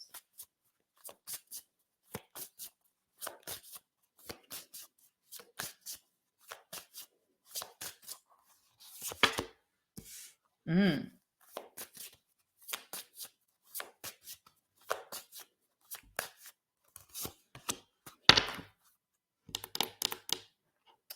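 Oracle cards are shuffled by hand in quiet, repeated riffling bursts with short pauses between them. The sound is close and fairly soft, with no talking.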